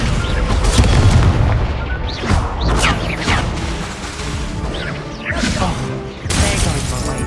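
Loud booming blast of the Confringo spell in the Hogwarts Legacy video game, a deep rumbling explosion followed by several crashing impacts and debris, with a voice calling out over the noise.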